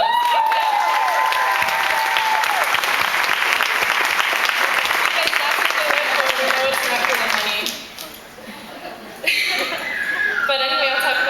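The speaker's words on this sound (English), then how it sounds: "Give them a round of applause." An audience at a graduation valedictory breaks into sustained applause for the teachers, with loud clapping mixed with laughter and cheers. It fades after several seconds, then a brief second round of clapping and chuckles follows.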